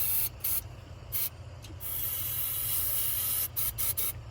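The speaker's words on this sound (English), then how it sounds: "I sprayed starting fluid directly down in the carburetor" Aerosol starting fluid sprayed down into the carburetor of a long-parked Plymouth Barracuda; a few short hissing bursts, then one long steady spray followed by more quick spurts, close and loud.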